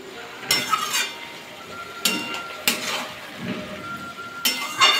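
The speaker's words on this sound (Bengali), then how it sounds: "ঢাকাটা খুলে দেবো, নিয়ে আবার একটু নাড়াচাড়া করে নেবো।" Malabar spinach (pui shak) being stirred in a covered pan with its own released water, a few sharp metallic scrapes and clinks of a spatula against the pan over a low steady simmer.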